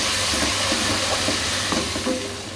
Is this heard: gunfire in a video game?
no